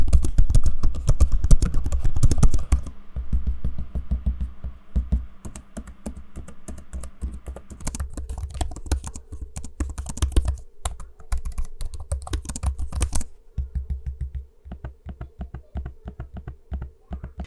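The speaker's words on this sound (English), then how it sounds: "let's do a quick audio sample of me using the keyboards and trackpads so you can hear what they sound like in use" Rapid, steady typing on HP ZBook laptop keyboards, close and crisp, with clusters of key clicks and occasional pauses and trackpad taps.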